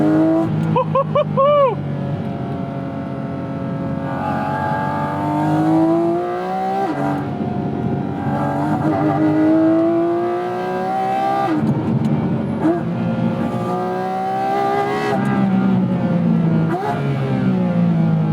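Porsche 981 Cayman GT4 flat-six with PDK gearbox, revving hard with quick, smooth downshifts and sharp throttle blips rising toward redline, loud and close, with a voice speaking over parts of it.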